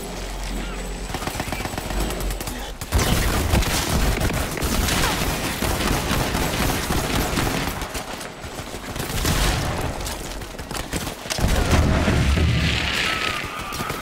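Rapid video game gunfire bursts fill the whole stretch, dense and loud, with booming impacts mixed in and brief pauses between volleys; a voice talks over the shooting at times.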